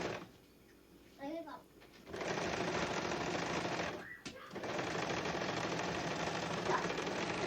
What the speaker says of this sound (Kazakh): Тігіп шығамыз.